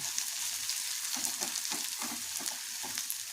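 Onions frying in a pan, a dense close sizzle with rhythmic scraping stirs roughly every half second, continuous and without speech.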